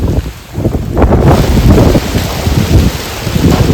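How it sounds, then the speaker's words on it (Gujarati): Strong wind roars through a large banyan tree during a fierce storm, a loud, steady broadband rush that swells and gusts, buffeting the microphone throughout. "આ બધો અવાજ આવે છે ને એ પવન છે ને વડમાં બધો ઘેરાય છે એનો પવન અવાજ આવે છે"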